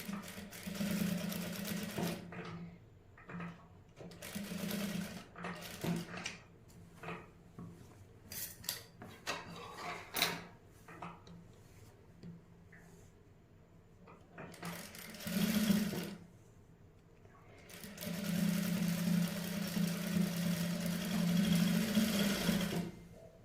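A sewing machine stitches side strips onto a garment neckline in several bursts of steady motor whirring, close and loud, broken by pauses filled with handling rustle and clinks.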